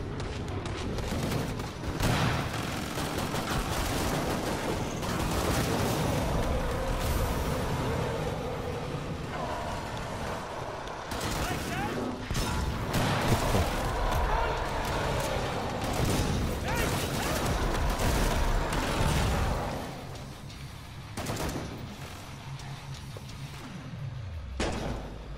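Gunfire in the online survival shooter game Killing Floor 2: dense, loud bursts of shots and booms run almost continuously, with a brief lull near the end.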